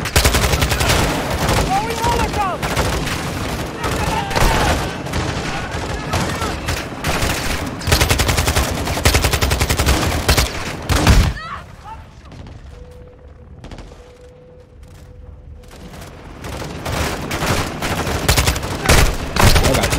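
Rapid bursts of automatic gunfire and shots from a Modern Warfare 2 firefight, loud and dense through most of the stretch, easing to a quieter lull with a faint hum near the middle before the shooting builds again; voices come and go underneath.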